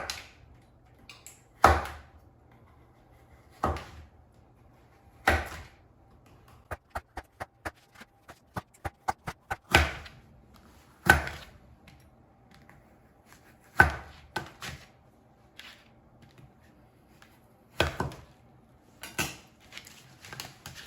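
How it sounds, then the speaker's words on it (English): Knife slicing delicata squash halves on a cutting board: sharp, close chops land one at a time at irregular gaps, with a quick run of rapid light cuts in the middle, alone in a quiet room. "So just put the squash half on this side and cut it into slices."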